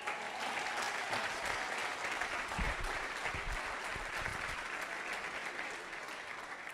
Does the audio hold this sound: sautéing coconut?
no